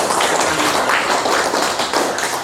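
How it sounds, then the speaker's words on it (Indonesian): A classroom audience applauds in a dense, steady wash of many hands clapping, loud and close, continuous for a couple of seconds before tapering slightly. "Mari kita tepuk tangan dulu."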